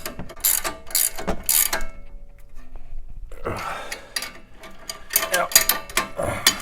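A wrench ratchets in quick bursts while tightening a strut mount nut on a Ford Explorer, with a pause midway and then faster clicking, close and clear as someone briefly speaks.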